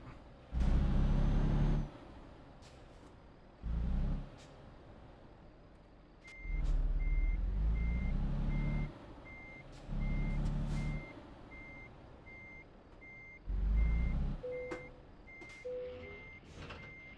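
A truck in Euro Truck Simulator 2 backs up to hook a trailer, its engine surging in repeated loud bursts while a steady, rhythmic reversing beeper chimes from midway onward.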